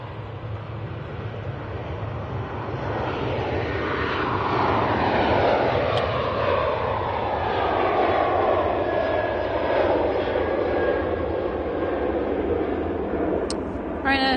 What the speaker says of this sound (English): Right, 737 to Krakow.